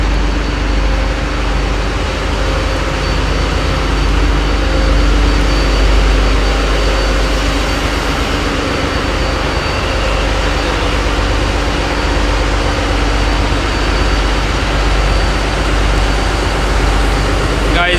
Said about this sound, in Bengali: এইটাই হইল দৈত্যকার মেশিন, যে মেশিনের সাহায্যে লঞ্চের পাখা ঘুরে লঞ্চ সামনের দিকে এগোতে থাকে